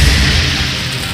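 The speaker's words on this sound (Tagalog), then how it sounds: "At isa pang kasunod na pagsabog mula sa pagbato nito ng bolang apoy." A loud, sustained rumbling blast from a thrown fireball in a fantasy story, heard close and heavy, with a low roar that fades only slightly over a second.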